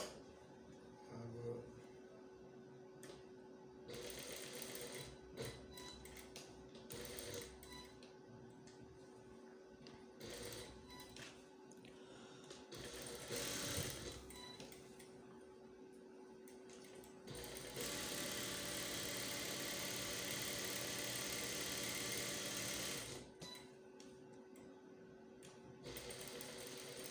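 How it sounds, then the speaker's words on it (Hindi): A sewing machine stitches a shirt collar in short bursts of rapid whirring, then in one long continuous run near the end, close and steady, with handling noises between runs. "यहाँ पे आपने ये सिलाई लगा लेनी है।"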